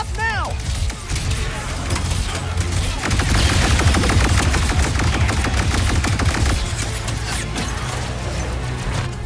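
Rapid gunfire and crashing impacts from the Ratchet and Clank Rift Apart power-suit boss fight, dense bursts of shots and metallic clatter layered over music, loud and continuous across the whole stretch.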